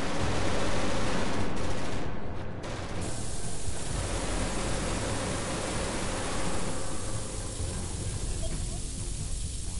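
An automated turret fires in the space game Genesis Alpha One, making a dense, continuous roar of rapid gunfire that blurs into noise and holds steady throughout, with voices faintly mixed in.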